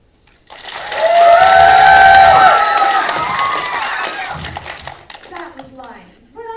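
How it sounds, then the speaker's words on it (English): A church audience clapping and cheering on cue, a loud burst of applause with whoops that swells, holds for a few seconds and tapers off, followed by scattered voices. "when I raise the applause sign, you're going to clap and cheer"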